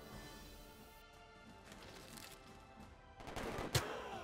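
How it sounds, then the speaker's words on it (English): Riflemen open fire in a Civilization V battle, a faint scatter of distant shots that builds into a louder volley and crash near the end. "Now that we've attacked with our riflemen"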